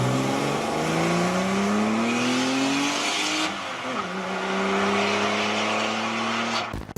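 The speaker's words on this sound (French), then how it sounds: "Porsche turbo, ça fait peur." A Porsche 911 Turbo race car accelerating hard, its loud engine note climbing steadily in pitch through the gears, with a brief dip at a shift before rising again, close and continuous, ending abruptly.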